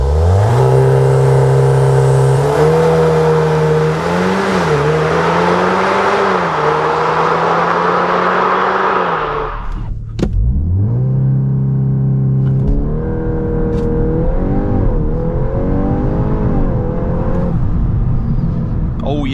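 A 2025 Volkswagen Golf R 8.5 facelift revs hard on the Autobahn and climbs through the gears, loud and close, with a brief drop during a shift before pulling strongly again.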